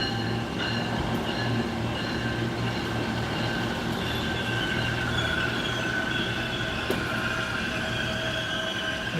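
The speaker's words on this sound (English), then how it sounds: "Here come the train" A train rolls past steadily with a constant rumble and faint wheel squeal, loud and close throughout with no talking.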